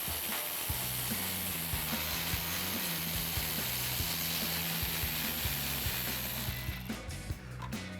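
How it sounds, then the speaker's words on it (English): A 10mm socket on a ratchet removes the grille bolts of a Ford F-150. Rapid, steady clicking of the pawl runs for several seconds over a constant hiss, then thins into a few separate clicks. "We'll use our 10mm socket to remove those"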